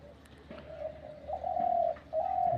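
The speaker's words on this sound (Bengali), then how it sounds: "লাইফে অনেক পাখি পালছি, তো এরকম ডাকের পাখি আমার লাইফে আসে নাই।" A hand-raised pet pigeon with an unusually strong voice sounds loud, sustained, tonal coos in two long drawn-out phrases, close by, with a faint hum underneath and no talking.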